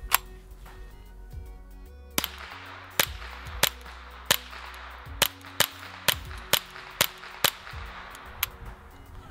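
A Ruger 10/22 Takedown with a Tactical Solutions SBX barrel and a Silencer Co Sparrow 22 suppressor fires about a dozen quick, snappy suppressed cracks at a fairly steady pace, with a low hum underneath at the start.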